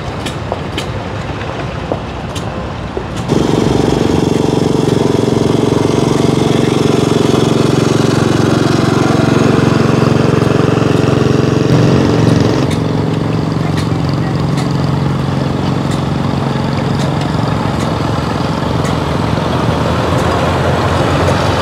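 Antique engines at a tractor show chug and rumble loudly and continuously nearby, a heavy mechanical drone that jumps in volume after a few seconds and holds steady.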